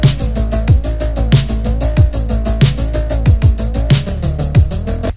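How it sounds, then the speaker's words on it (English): A synthwave bass patch from the Tone2 ElectraX synthesizer plugin plays a punchy rhythmic line with repeated gated notes and sliding pitch drops over driving beats, loud and continuous. "I'll show you how to make synthwave basses that sound like this right here."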